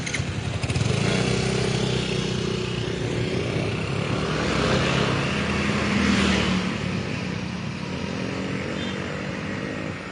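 Motorcycle engines running on a road, a steady droning roar that swells and fades as machines pass close by, with a brief louder surge midway and no voices.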